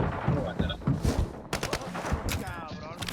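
Bots in the shooter Arena Breakout fire rapid, scattered bursts of gunfire that crackle dense and loud, while someone talks over the shooting.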